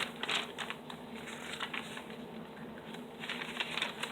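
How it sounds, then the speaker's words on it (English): Soft, steady crinkling and rustling of paper close by, a continuous papery texture with small crackly peaks. "I just love crinkly paper. I love listening to it."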